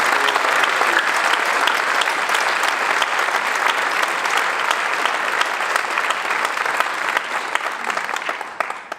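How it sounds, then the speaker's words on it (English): Dense, sustained applause from a large audience at a 2019 Clemson alumni distinguished service awards gala, loud and even throughout, tapering slightly at the end with no talking over it. "now let's give one last round of applause for all the 2019 distinguished students"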